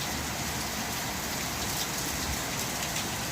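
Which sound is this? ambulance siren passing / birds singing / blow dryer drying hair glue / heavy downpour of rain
heavy downpour of rain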